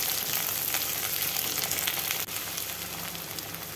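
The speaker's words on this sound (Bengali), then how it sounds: "এইভাবে আমি ভাজতেই থাকবো।" Cut potatoes frying with reddened onions in a pan for jhinge aloo chorchori, a loud, steady crackling sizzle close by, with one brief dip partway through.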